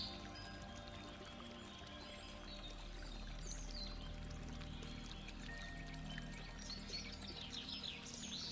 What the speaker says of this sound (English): You're only paying attention to the sound of the water.